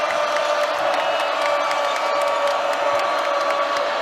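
A packed college basketball arena crowd roars steadily throughout a Georgia vs Auburn men's game, dense sustained cheering and shouting with scattered whoops, loud and continuous with no break.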